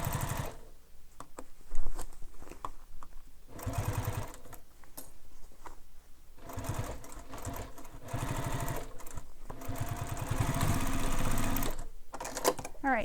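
A sewing machine runs in long bursts while stitching a bowler bag, a rapid, even mechanical whir that starts and stops between short pauses for back-stitching, loud and close.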